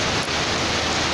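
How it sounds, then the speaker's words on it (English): Hail falling on the ground outdoors during a Los Angeles rain and hailstorm, a dense, loud, continuous patter of ice pellets with no gaps. "it's ice hitting the ground out here"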